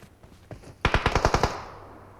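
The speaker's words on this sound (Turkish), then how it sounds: "Önümden sıkıyorlar." Automatic gunfire in the PUBG Mobile battle royale game: a rapid burst of about ten sharp, evenly spaced shots, loud and close, preceded by a few fainter pops, with no talking.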